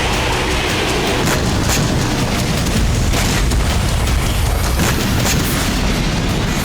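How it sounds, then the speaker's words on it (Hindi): Dense, continuous rumbling and crackling blasts follow Israeli bombing in Beirut's outskirts, as stored Hezbollah rockets and weapons keep detonating one after another. The roar is loud and unbroken, with no voices. "इजरायली बम गिरने के बाद इस जगह लगातार धमाके हो रहे हैं।"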